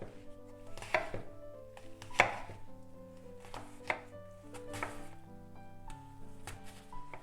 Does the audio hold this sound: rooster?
no